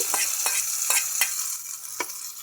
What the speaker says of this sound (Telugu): ఇంకా చట్నీలో పోపు కూడా రెడీ అయిపోయిందండి ఇంకా పోపు కూడా వేసేసుకుంటున్నాను